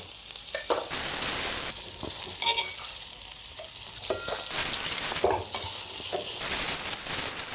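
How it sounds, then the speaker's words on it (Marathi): Onion sautéing in oil in a pan, a continuous crackling sizzle with recurring bursts of scraping as a spatula turns the slices, close and evenly loud throughout; no voices. "याच तेलामध्ये आपण कांदा परतून घेऊया."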